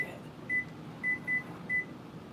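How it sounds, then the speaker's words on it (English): Kitchen timer being set while soup heats on the stove, giving four short thin beeps at uneven intervals over a quiet hum of room noise. "I'm gonna put the timer on for like 15 minutes"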